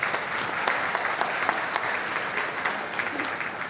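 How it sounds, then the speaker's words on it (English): Audience at a leadership conference clapping steadily throughout, a dense, even round of applause with scattered louder claps and no talking. "Give that a round of applause right there"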